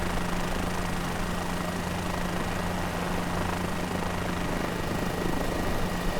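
Helicopter rotor wash and engine drone from a Guimbal Cabri G2 in Microsoft Flight Simulator 2020, a steady, dense roar with a low hum that holds constant throughout and has no talk over it.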